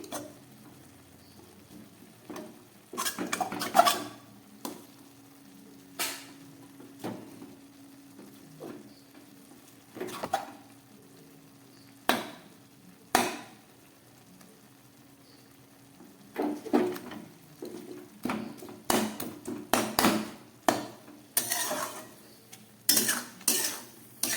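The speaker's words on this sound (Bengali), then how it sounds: "আমি এবার এই চিকেনের পিসটাকে একদম টুকরো করে দেবো, এর সঙ্গে মিশিয়ে দিচ্ছি।" A spatula breaks up chicken pieces and stirs them through a chicken tarka in a pan. Intermittent scraping clatter and knocks sound over a faint steady hum, close by, and nobody speaks.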